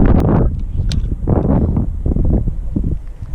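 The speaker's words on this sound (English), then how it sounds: "It's too windy over here." Strong gusty wind buffets the microphone beside a creek during fishing, a loud low rumble surging and easing throughout with no clear voices.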